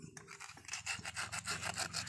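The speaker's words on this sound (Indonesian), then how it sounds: "Kita menggunakan amplas pelan-pelan supaya bersih." Sandpaper rubbed slowly by hand over the combustion chamber block of a generator engine that has lost compression, a close, steady series of rasping back-and-forth strokes in regular rhythm, with no talking.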